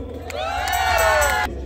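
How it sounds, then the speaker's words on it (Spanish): A loud burst of cheering and whooping from a crowd at a concert in Lynwood, California, swelling for about a second before cutting off abruptly. "Ahora quiero pedirles un aplauso para el resto de mis compañeros"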